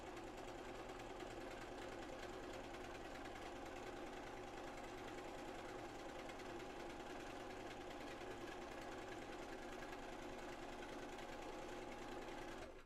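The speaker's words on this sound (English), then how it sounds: "when you start sewing, you just let it rip" A sewing machine running fast and steadily as it stitches fabric, a continuous close mechanical whir and rapid needle clatter with no pauses.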